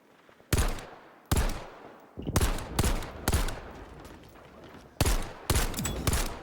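Gunfire from a shooter video game comes in sharp, loud bursts, several separate volleys spaced through the stretch with brief decaying tails between them, and no talk over them.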